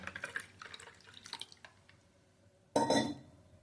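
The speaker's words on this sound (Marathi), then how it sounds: "आणि आता बाकीचं पाणी घालायचंय" Scattered clinks and light splashes, then a brief gush of water being poured into bael fruit sharbat near the end.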